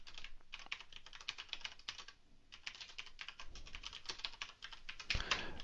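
Typing code on a computer keyboard for a PowerBuilder try-catch block: dense runs of close, crisp key clicks with a short lull, ending in a slightly heavier burst, no voices.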